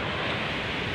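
Ocean waves at Soge beach in Pacitan, a dense continuous wash of surf mixed with wind buffeting the microphone, loud and steady with no voices.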